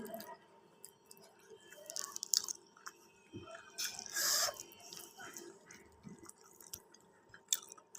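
Someone eats khichuri, with soft, wet chewing and squishy mouth sounds close up, quiet and irregular, mixed with faint clinks and a low background hum.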